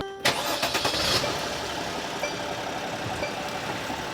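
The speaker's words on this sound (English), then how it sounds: "we're going to motor this sucker up, and we're going to let it idle for 15 minutes" A Mercedes Sprinter van engine cranks briefly and catches, then settles into a steady idle that stays close and even.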